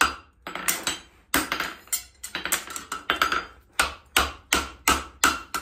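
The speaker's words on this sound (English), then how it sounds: "Go back to the same spot using the heel of the hammer." A hammer rings repeatedly against a horseshoe in quick, uneven bursts of sharp clanging strikes, close and loud, with no talking.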